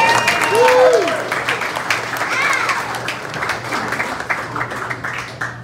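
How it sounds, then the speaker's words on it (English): Audience applause follows a tribute at a Suffolk County gathering: a loud burst of clapping that gradually thins and fades, with some whistle-like tones and crowd voices mixed in underneath. "Please give Tom another round of applause."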